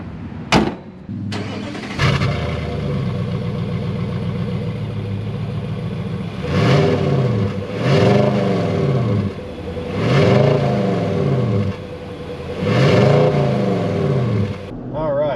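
A 2021 Nissan Titan Pro4X full-size pickup starts up and pulls away from a stop, its engine rising and falling through several loud, close revving surges with gear-change dips, while a person talks over the engine noise.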